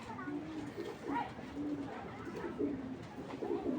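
Pigeons coo in soft, repeated low rolls at close range, one of them a light grizzle male racing pigeon. The cooing is steady and faint-to-moderate with no talk over it.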